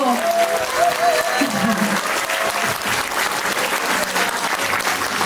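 An audience at a political talk concert gives loud, continuous applause, with a crowd murmur and voices audible beneath the clapping.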